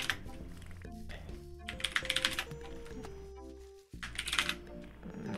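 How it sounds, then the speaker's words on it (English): Clattery computer keyboard typing in uneven bursts of quick keystrokes, close and fairly quiet, with brief pauses and game music tones running underneath. "I gotta look at my keyboard and then type."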